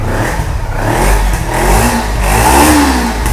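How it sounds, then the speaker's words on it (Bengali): A motorcycle engine starts with a single press and revs, holding a rough, rising roar for a few seconds, loud and close, with no voices. "কোনো কথা হবে না, সিঙ্গেল ক্লিকে স্টার্ট।"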